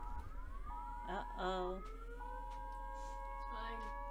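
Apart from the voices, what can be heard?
civil defense siren monthly test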